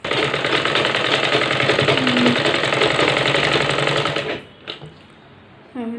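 A sewing machine stitches around the hem of a lining blouse in one loud, fast, even mechanical whir that runs for about four seconds and then stops, followed by a few faint handling sounds.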